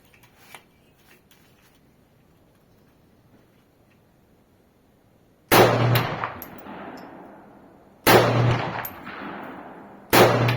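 A Saiga MK shotgun fires ordinary hunting shells from a Soviet magazine: three loud, sharp gunshots spaced about two to three seconds apart, each with a short decaying echo, after quiet handling clicks.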